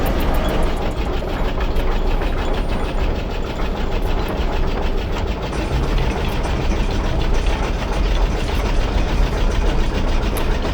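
A combustion deep miner engine runs steadily in the Stationeers video game, a loud, continuous mechanical drone with low rumble and a dense, rattling texture that holds its level without pause.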